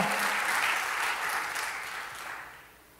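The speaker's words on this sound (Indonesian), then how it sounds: "Jogja, yuk tepuk tangannya bisa lebih dahsyat lagi buat Yesus Tuhan kita." A church congregation in Jogja bursts into dense, loud applause during a worship service, sustained as a steady wash of clapping that gradually thins and fades toward the end.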